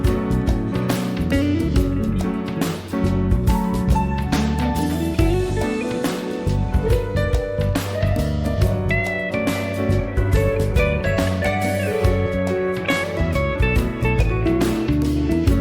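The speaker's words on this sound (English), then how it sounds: "got a mixture of, damn, that's so good, hand percussion and a regular drum set right here." A full music track, an arrangement of Bizet's Farandole from the game Catherine, with busy drum kit and layered hand percussion driving a steady groove, loud and continuous under bass and melody, no talking.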